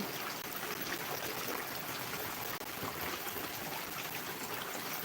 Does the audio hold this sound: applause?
no